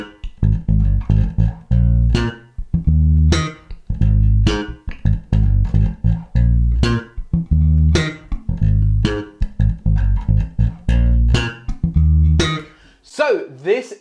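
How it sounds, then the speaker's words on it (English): Hybrid slap bass riff mixing fingerstyle plucks with slaps and pops, a steady run of punchy, percussive low notes with bright snapping attacks, loud and close, played alone, ending in a sliding pitch bend. "I want to show you a technique that I call hybrid slap"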